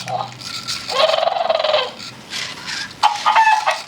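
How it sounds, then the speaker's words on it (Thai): A ZoomerDino robot dinosaur toy gives an electronic rooster-like crow, in several loud, warbling bursts over about four seconds, with brief pauses between calls. "แล้วเขาจะนึกว่าตัวเองเป็นไก่เขาจะขัน"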